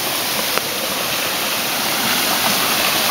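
A creek running through a forest flows with a steady, broadband rushing hiss, constant and close, with a faint click near the start and no voices.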